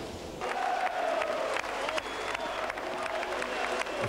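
A football crowd at Highbury applauding before kick-off, a broad steady wash of clapping and murmur with a few whistles, sustained throughout at a distance, with a voice faintly audible underneath.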